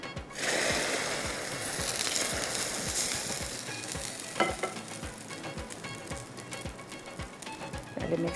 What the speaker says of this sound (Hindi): अब ये तड़का लगेगा